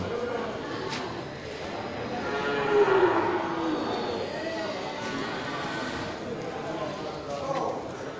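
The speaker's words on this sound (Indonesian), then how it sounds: "Sapi Bali Bless lagi bunting" A pregnant Bali cow moos in a low, drawn-out call at a cattle market, heard under someone talking nearby, with faint shuffling in the background.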